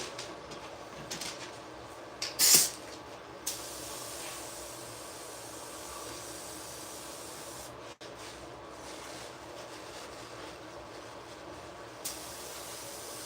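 A generic touch-up spray gun sprays white paint for lowrider candy paint and patterns over metal flake, a steady airy hiss running throughout with a brief sharper burst near the start, no talking.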